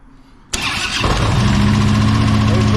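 A Harley-Davidson touring motorcycle cranks after a quiet moment and catches within a second, then settles into a loud, steady, lumpy idle close by.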